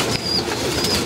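A pigeon with paralysed, bent legs coos close by in a short, soft, low burble.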